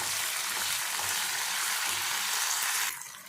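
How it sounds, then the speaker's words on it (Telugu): Ginger garlic paste fries in a pan, a loud continuous hiss with faint scraping stirs underneath, then the sizzle drops off abruptly near the end, no talking. "అల్లం తెల్లగడ్డ పేస్ట్ బాగా వేగింది, పచ్చివాసన అయితే పోయింది"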